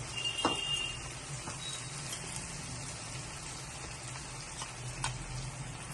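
Spices and onions frying in a pan with turmeric, a steady low sizzle crackling evenly throughout at moderate volume, with a couple of faint clicks and no talk.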